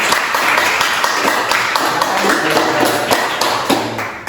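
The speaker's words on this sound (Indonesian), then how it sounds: "beri tepuk tangan untuk kelompok 3" A classroom of students in Indonesia claps for a group that has just presented, a steady patter of many hands at close range lasting several seconds.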